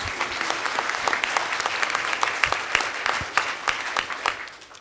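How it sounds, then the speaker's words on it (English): An audience claps steadily at a United Way kick-off event, dense and sustained, with a few louder claps standing out before the applause thins and fades at the end. "You can clap."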